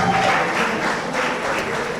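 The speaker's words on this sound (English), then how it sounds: "Round of applause, please." Applause from an audience at a pan-African culture, arts and media gathering: dense, steady clapping fills the whole short stretch at close, even loudness, with no pauses.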